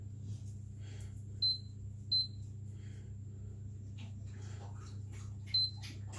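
Kitchen timer beeps while cooking mashed carrots, three short, high electronic bleeps spaced apart over a steady low appliance hum, fairly quiet and with no talking.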